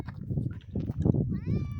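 A cat meows near the end, a rising then falling cry over rustling and low background noise.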